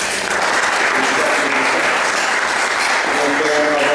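An audience at a scientific education seminar applauds, a loud, continuous roar of many hands clapping that holds steady from start to finish.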